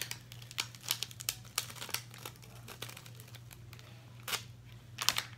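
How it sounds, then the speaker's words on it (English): Transfer tape peeled back from a music plaque by hand, sharp crinkling and crackling bursts coming in irregular spurts over a low steady hum, close and fairly quiet, with no talking. "Transfer tape back. Pull it."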